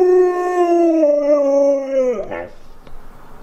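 A German Shepherd and Husky mix dog howls on command, giving one loud, close, drawn-out howl that wavers and then drops off sharply into a brief whimper.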